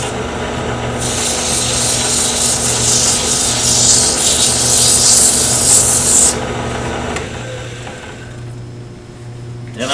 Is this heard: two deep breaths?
no